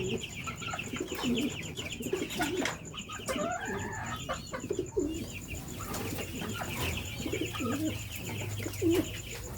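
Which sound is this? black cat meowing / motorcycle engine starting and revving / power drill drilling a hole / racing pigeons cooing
racing pigeons cooing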